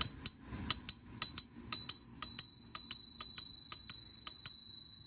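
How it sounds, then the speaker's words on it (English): An electric folding bike's bell rings repeatedly in quick, uneven bursts of bright metallic dings, close and clear, with no talking. "You have this little bell or a ring or a horn, whatever you want to call it"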